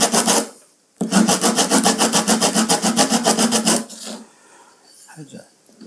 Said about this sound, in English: I've got some sandpaper here, sandpaper will do fine.